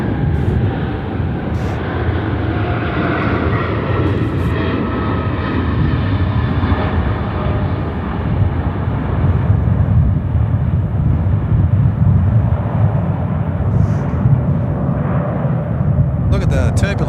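An airliner takes off at night from runway 34 left at Sydney Airport, producing a loud, sustained, broad jet roar that fills the whole stretch without a break, with voices faintly beneath it.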